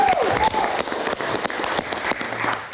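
A live studio audience at a talk show breaks into sustained, dense applause with some cheering. A voice speaks briefly at the start as the clapping carries on steadily.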